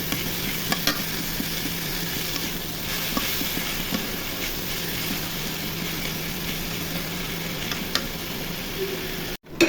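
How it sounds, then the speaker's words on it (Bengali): Ginger-garlic paste fries with onion in a pan for a rohu fish and eggplant curry, an even, continuous close sizzle with faint stirring ticks and a brief knock at the end. "এখন আদা রসুন বাটা দিয়ে ভেজে নিব।"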